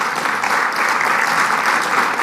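Audience applause at a live talk event, steady dense clapping from a crowd that fills the whole stretch without a break, fairly loud and broad.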